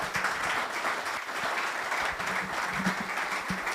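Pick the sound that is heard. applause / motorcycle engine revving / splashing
applause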